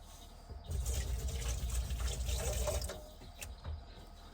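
Tap water runs steadily into a sink while hands are rinsed at an outdoor campsite in Florida, a soft continuous splash lasting a few seconds with brief drips at the end, no talking.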